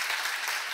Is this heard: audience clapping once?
yes